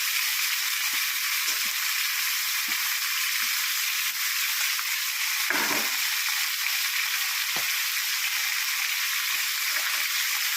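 Chicken fries in oil with a loud, continuous hissing sizzle that holds steady throughout, broken by a few soft stirring knocks and a brief clatter near the middle.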